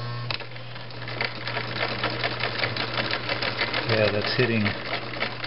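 A Viking Type 21 sewing machine stitches a triple zigzag with a close, rapid mechanical clatter and steady motor hum, while people talk briefly over it.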